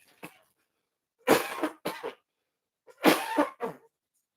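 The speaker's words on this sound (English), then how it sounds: "I'm having this cough that I came back from Africa with" Two bursts of harsh coughing, each a quick cluster of three or so hacks, close to the microphone with short silences between.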